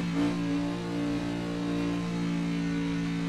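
A Dodge Charger from Fast & Furious, rated around 1000 horsepower, revs its engine in the Assetto Corsa racing game; a steady, droning mid-range engine note holds with slight swells throughout.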